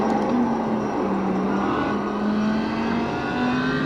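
GT3 race car in the iRacing sim, its engine droning loud and steady near the listener, with small rises and dips in pitch as it drives on.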